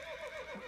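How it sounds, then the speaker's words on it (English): A horse squeals as a sound effect in an audiobook: one short, high whinny, faint and brief, with no voice over it. "the sudden squeal of a horse"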